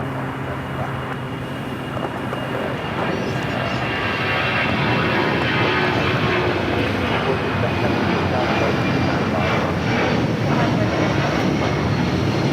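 An old ex-TWA Boeing 757-200 jet at LAX gives a loud, steady roar that builds slightly and holds for the whole stretch, a broad engine rumble with no clear voice over it.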